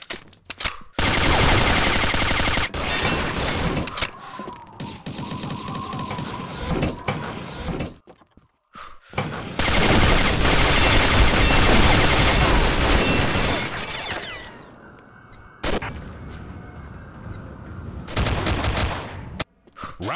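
Video game gunfire crackles in dense rapid bursts of shots and automatic fire, loud and close, with brief pauses and mechanical whirring sounds between volleys.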